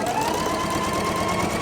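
A sewing machine runs steadily through pinned quilt pieces, giving a continuous mid-pitched mechanical whir with a faint rhythmic knock, close and alone without talk.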